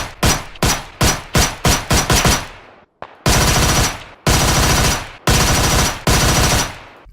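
Gunfire from a G36C or Skorpion in PUBG Mobile: a run of sharp single shots, then several sustained full-auto bursts separated by brief pauses, loud and close with no talking.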